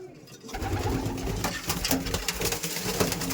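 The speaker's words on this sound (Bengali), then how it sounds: "একটু পায়রা দেখিয়ে দিই" A dense, continuous chorus of Madrasi pigeons cooing nearby, low and rolling with overlapping calls throughout.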